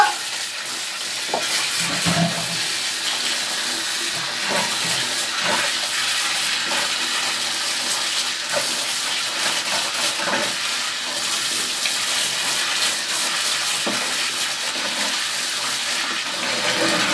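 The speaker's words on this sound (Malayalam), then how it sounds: "നമ്മൾ പൈപ്പ് തുറന്നിട്ടിട്ട് തല അതിലേക്ക് ഈ മുടി ഇങ്ങനെ ഇട്ടിട്ട് തല അതിലേക്ക് വെക്കുന്നത്" Tap water running continuously from an open pipe during hair washing, a steady splashing rush with small irregular spatters throughout.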